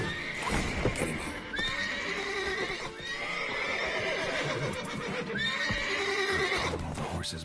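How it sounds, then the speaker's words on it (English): Several horses in The Witcher 3 whinny and neigh repeatedly amid clip-clopping hooves and stable movement, loud and close, with brief game voices mixed in. "Calm all the horses before they wake the guards."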